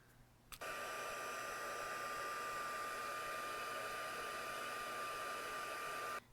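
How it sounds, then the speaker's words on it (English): Heat tool blowing steadily on embossing powder on a card, a constant close whooshing hum that starts abruptly and runs about six seconds before cutting off, no talk. "Then I'm going to heat set this so it becomes a bit of a tacky adhesive."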